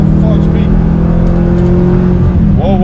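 A 2013 Chevy Camaro ZL1 with only 5,000 miles pulls hard in second gear, its engine a loud, steady close-up drone heard from inside the cabin, with a person talking over it.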